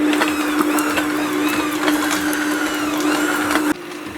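An electric mixer creaming butter, whirring in a steady high motor whine with beaters rattling and knocking against the bowl, close and loud, then dropping in speed near the end.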